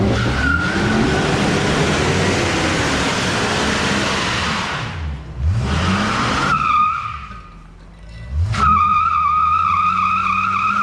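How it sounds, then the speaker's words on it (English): A pickup truck in low four-wheel drive revs loudly, its engine whine rising and falling over harsh tire and drivetrain noise, then dips briefly twice before the drone comes back at full strength. "Drive does seem to be unengaging, re-engaging. Can hear it."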